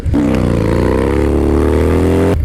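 A Harley-Davidson Dyna Low Rider S motorcycle engine revs steadily and loud up close, a sustained throbbing growl that holds for a couple of seconds before cutting off, with no talking.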